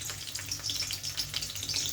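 Seven or eight crushed garlic cloves fry in about one and a half ladles of hot oil in a heated wok, giving a close, continuous crackling sizzle with bright popping spatters.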